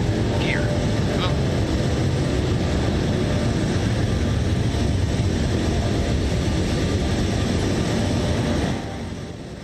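Steady roar of Rolls-Royce jet engines on a Boeing 777 in flight, in the Flight Simulator 2024 game, a dense, continuous broadband drone that stays loud and even before easing slightly at the very end.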